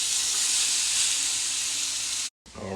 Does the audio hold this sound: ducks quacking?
no